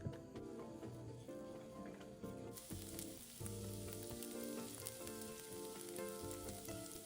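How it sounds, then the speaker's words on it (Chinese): Chopped dried shrimp sizzle in 15 g of hot cooking oil over medium-low heat, a steady crackling fry that runs close and continuous with no talk over it. "炉开中低火，倒入食用油15克，再将备好的虾米碎倒入爆香"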